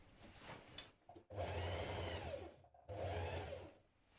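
A sewing machine stitches elastic into a pair of trousers in two sustained, fast whirring runs separated by short pauses, loud and close.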